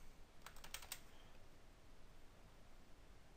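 A few quick keystrokes on a computer keyboard come as a short burst near the start, faint under steady background hiss, then only the hiss remains.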